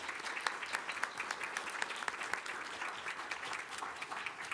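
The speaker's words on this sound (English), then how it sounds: "Let's give them a round of applause." A room at a city council meeting breaks into steady applause right after a unanimous vote, dense clapping from many people sustained for several seconds with no talking.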